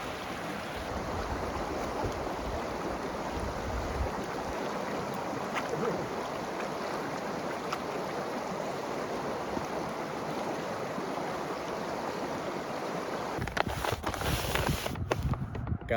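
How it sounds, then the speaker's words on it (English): The Virgin River in Utah flows steadily in a continuous broadband rush of running water, with a brief louder disturbance near the end. "This might be the Virgin River here. It's actually flowing pretty good."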